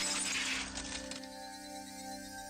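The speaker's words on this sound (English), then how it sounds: "that glass breaking sound was" Glass shatters in the visual novel Higurashi no Naku Koro ni Watanagashi, a bright crash with tinkling shards over the first second, fading under a sustained eerie tone.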